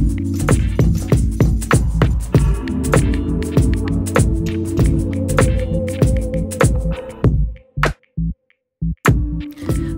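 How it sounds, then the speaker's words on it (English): Ultralock serger overcasting the inside seams of a skirt, a loud, close, rapid mechanical whirring hum that runs steadily and then stops and restarts in short bursts near the end. "I'm finishing off the skirt, the inside finishing, with my ultralock serger"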